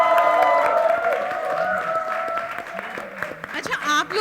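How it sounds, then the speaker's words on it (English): A crowd at a film trailer launch event claps in applause, starting loud and thinning out, with a voice speaking over the clapping and a few claps lingering toward the end. "a huge round of applause for them."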